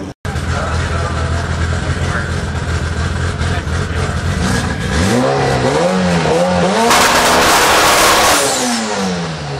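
Race cars at the 2019 Haltech World Cup Finals drag racing event, with loud engines idling and then revving in rising and falling sweeps, crowd noise beneath, and a person talking over the engine sound.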